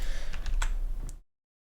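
Rapid keystrokes on a computer keyboard, a quick cluster of close clicks lasting about a second before abrupt silence.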